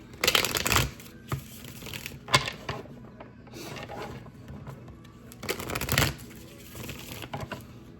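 A deck of oracle cards being shuffled close up, several bursts of riffling and flicking with short pauses between, quiet and without talk.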